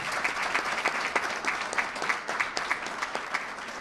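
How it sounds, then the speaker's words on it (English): Audience applause for Adam Bello at a New York gubernatorial event, steady clapping from a room of people with sharper individual claps standing out, fairly close. "Let's give a round of applause to Adam Bello."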